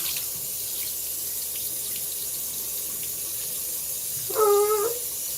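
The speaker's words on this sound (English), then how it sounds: "Douse it in cool water." Cool tap water runs steadily into a sink to soak a washcloth, a constant close hiss of flowing water, briefly joined near the end by a short, tonal squeak.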